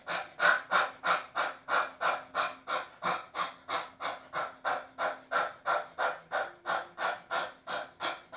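Rapid rhythmic panting from a person doing a belly-pumping breathing exercise, about 27 quick forceful breaths in steady succession, close and clear with no talking.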